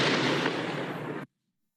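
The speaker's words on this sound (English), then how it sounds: "this is just an explosion sound downloaded from the internet" A downloaded explosion sound effect for game audio roars as one loud, dense blast that holds for about a second, then cuts off abruptly into silence.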